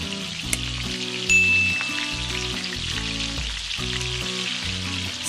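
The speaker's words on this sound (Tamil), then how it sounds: "பிரெட் க்ரம்ஸில் கொஞ்சம் ஈரப்பதம் இருந்தால் ஆயில் லைட்டாக தெறிக்கும்." Breadcrumb-coated prawns deep frying in hot oil on a stove, giving a steady, close sizzle with crackling spits and a burst of louder bubbling as more pieces hit the oil, all with music playing underneath.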